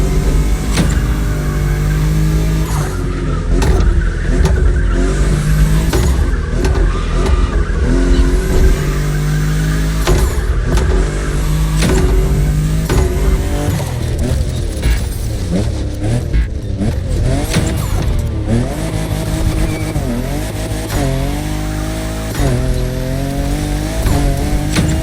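A fifth-generation Toyota Supra revs and drifts in the racing game The Crew Motorfest during a timed touge drift event. The engine note climbs and falls steadily and loudly throughout, with a continuous tone and no talking.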